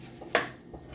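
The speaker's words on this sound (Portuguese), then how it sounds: "Vou até usar esse bombril, que eu gosto de dar sempre também uma geral aqui na panela de inox." A quick scraping scrub of steel wool against a stainless steel pan in a kitchen, one short abrasive burst with faint metallic clatter.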